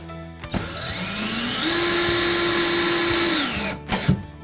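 A power drill drives screws into pre-drilled holes on a Carrom foosball table cabinet, one sustained whirring run that rises in pitch and holds before stopping, with brief clicks at either end.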